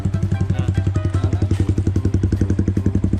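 A motorcycle engine idling or running nearby on a road trip to a waterfall, with a loud, rapid, even thumping pulse repeating throughout.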